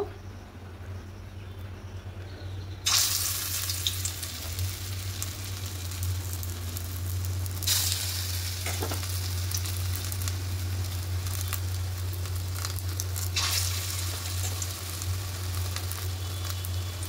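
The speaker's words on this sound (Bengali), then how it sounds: "গরম হয়ে গেছে, এবার এক একে বড়াগুলো ছেড়ে দেব।" Raw potato fritters dropped into hot mustard oil in a kadai sizzle steadily and loudly, with fresh bursts of crackling as each new fritter hits the oil, no talking.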